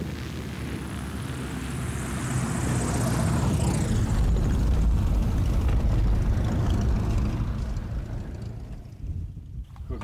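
A propeller aircraft on an aerial patrol over Kenyan slopes drones steadily for several seconds, swelling louder at its nearest point and then fading, with wind rumble over the microphone.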